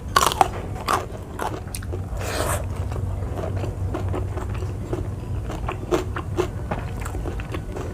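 Someone bites and chews raw papaya stem and young jengkol eaten with fish in tempoyak curry, giving close, repeated moist crunches and soft chewing at an irregular pace, with no talking.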